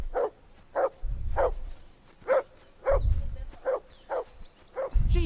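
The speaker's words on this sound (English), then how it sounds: "Jesus, Henry, that barking's driving me nuts." A dog barks repeatedly in the medieval role-playing game Kingdom Come: Deliverance 2, about nine sharp, evenly spaced barks close by, with low voices and game rumble sounding between them.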